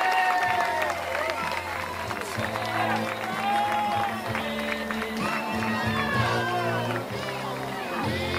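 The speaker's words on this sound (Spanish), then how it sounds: "Vou pidindo xa un aplauso." A crowd at an outdoor soapbox race applauds the podium finishers, clapping and cheering beneath a loud amplified announcer talking over them almost continuously.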